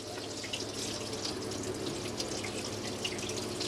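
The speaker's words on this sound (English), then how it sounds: "You've got your tap there, that's bringing through your warm water." Warm water runs steadily from a tap into the sink of a 2018 Elddis Premium Edition 195 caravan, a continuous close splashing hiss with no talk.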